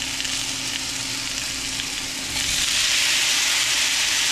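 Halved cherry tomatoes hit a hot pan, and a steady frying sizzle jumps to a louder, brighter hiss partway through that stays strong to the end.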